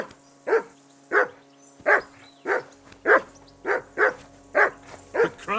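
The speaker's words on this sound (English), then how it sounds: "Call off that damn dog" Dog barking in the medieval video game Kingdom Come: Deliverance II, about nine sharp barks at a steady rhythm roughly every half second, loud and close over a low background hum.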